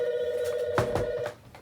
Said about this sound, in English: Bust out an old phone.